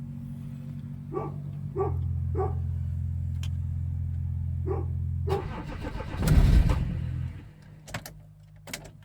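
A Jeep Cherokee XJ with an M57 diesel engine starts cold at -6 degrees: a few dog barks over a low hum, then a loud crank that catches into a rough, rumbling diesel idle.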